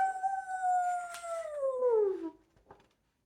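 A dog lets out one long, loud howl that slides slowly downward in pitch and fades out, followed by a small yip near the end, with no voices around it.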